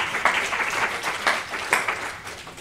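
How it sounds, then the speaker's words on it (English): A short burst of applause from a small lecture audience, uneven claps with a few louder accents, close and fairly loud. "Can you guys give them a quick round of applause for being guinea pigs?"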